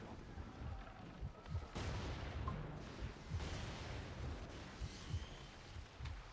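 A schooner in Skull and Bones fires torpedoes in naval combat, a series of heavy booms and rumbling blasts over continuous sea and battle noise, fairly quiet overall.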